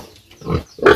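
A pig on a farm gives two short, close grunting oinks in quick succession.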